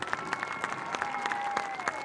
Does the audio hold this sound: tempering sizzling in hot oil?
no